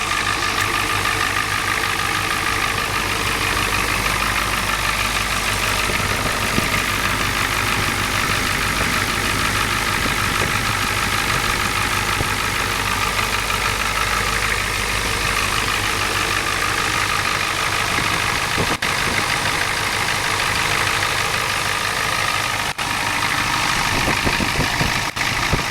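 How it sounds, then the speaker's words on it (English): A 1992 Ford F350 Custom with a big Powerstroke turbo diesel idles steadily nearby, a continuous low, rumbling drone with an even, unbroken loudness and no talk over it. "It's a big engine."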